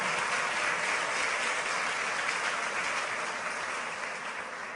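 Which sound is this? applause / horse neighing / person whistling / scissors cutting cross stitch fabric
applause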